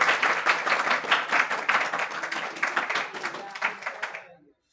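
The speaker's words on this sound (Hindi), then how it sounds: "जोरदार तालियां हो जानी चाहिए।" An audience at a school ceremony honouring a top student claps steadily for several seconds, moderately loud and close, fading out at the end, with a voice speaking over it.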